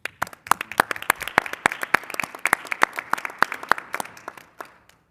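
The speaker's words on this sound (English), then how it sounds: "I just want us to really give folks another round of applause," Audience applause at a college academic affairs committee meeting: a small group clapping briskly and steadily for about four seconds, then thinning out to a few scattered claps and fading.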